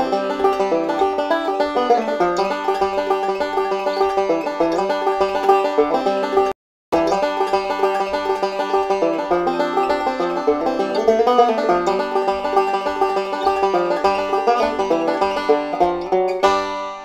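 Driving bluegrass backup on banjo, with busy bright picked rolls over a steady pulsing low beat, plays continuously and close, broken by one brief silent gap partway through.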